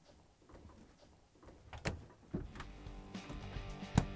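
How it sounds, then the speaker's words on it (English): Frigidaire refrigerator doors being closed after a repair, quiet handling sounds leading to several soft thuds and a firmer final shut, close by. "we can close both doors"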